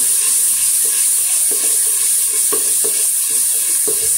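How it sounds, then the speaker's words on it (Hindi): Spices are stirred for a ridge gourd (turai) dish in a clay cooking pot. A loud, continuous sizzle runs under scattered soft scrapes and knocks from the stirring spoon, with no speech. "हम इनको हिला लेंगे मसाला जात को"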